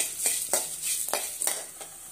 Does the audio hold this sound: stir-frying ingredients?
yes